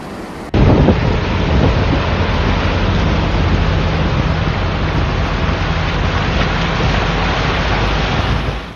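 Heavy rain in the Asir region pours down as a loud, dense, unbroken roar, beginning abruptly and holding steady throughout, close and full with no voices.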